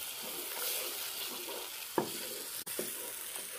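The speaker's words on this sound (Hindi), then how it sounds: "अब मैं इसके अंदर ये दही डाल रहा हूँ और दही को भी मैं ड्राई कर लूँगा" Yogurt fries with masala in a pot for a mutton keema stuffed tinda curry, producing a dense, even hiss of sizzling with a couple of soft stirring knocks, close and steady.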